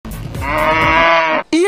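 A single long cow moo, loud and close, rising and holding steady for over a second before cutting off, followed by a brief start of another call.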